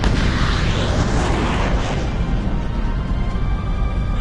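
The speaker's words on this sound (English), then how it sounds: "Infrared missile launched." In the Ace Combat 7 video game, an infrared missile launches and explodes, a loud, dense roar and blast that holds steady and fades slightly over a few seconds, with no talk.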